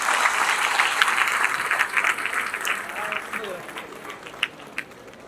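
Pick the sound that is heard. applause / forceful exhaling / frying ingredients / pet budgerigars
applause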